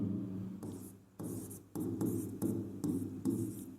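Chalk or marker scratches across a classroom board during a biology lesson on nutrition, in short repeated strokes separated by brief pauses, close and clear with no speech over it.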